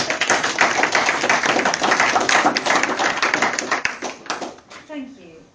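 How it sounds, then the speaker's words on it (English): An audience at a community voting campaign meeting claps steadily for several seconds, a close, busy patter of hands that fades into scattered taps, with a voice starting to speak at the end. "Clap."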